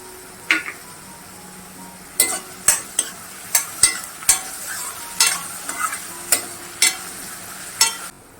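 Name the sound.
onion sauteing in a pan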